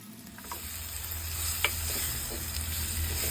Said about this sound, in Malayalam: അപ്പോൾ ഇനി നമുക്ക് നമ്മൾ വെട്ടി വെച്ചിരിക്കുന്നു നമ്മുടെ മീൻ ഇട്ട് കൊടുക്കാം